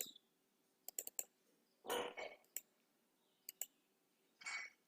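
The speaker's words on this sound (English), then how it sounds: "click on the text and just click one time" Several sharp computer mouse clicks, singly and in quick pairs, during graphic design work on a Facebook cover image, with a couple of soft rustling noises between them in a quiet room.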